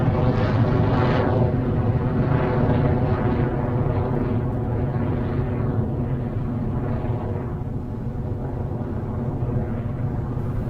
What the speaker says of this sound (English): we have had successful liftoff of the IB tracking R3D2 downrange.